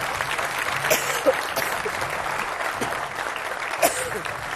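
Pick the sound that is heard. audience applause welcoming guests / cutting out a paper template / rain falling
audience applause welcoming guests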